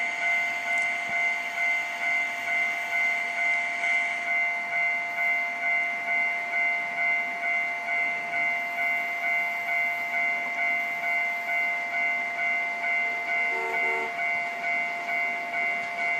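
A train in the Trainz 12 game runs past a large multi-track railroad crossing, giving a steady hissing, droning tone with sustained whistle-like layers and an even rolling pulse, loud and unbroken throughout.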